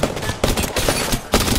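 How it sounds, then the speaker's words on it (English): Rapid automatic gunfire from an opposing squad in the battle-royale shooter Apex Legends, loud and close in dense bursts with a short gap between them. "Being shot by another team."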